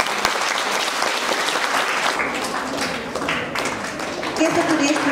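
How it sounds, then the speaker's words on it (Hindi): Enthusiastic audience applause at a school celebration event, dense steady clapping throughout, fairly close and loud, with faint voices underneath. "जोरदार ताली उनके लिए।"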